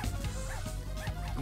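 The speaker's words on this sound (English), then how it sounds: "Stan's dog, right?" Stan's dog in a South Park racing video game gives a few short, yippy barks and whimpers over a busy game soundtrack, with quiet talk in the background.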